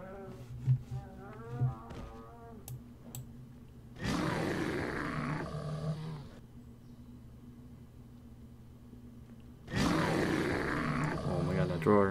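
Bear roar in the video game Rust: two loud, rough roaring bursts of about two seconds each, separated by a quieter stretch, with a steady game ambience and brief sounds before the first roar.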